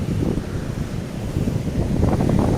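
Wind at the ocean shore buffets the microphone in a loud, low, continuous rumble, with the wash of waves blended underneath.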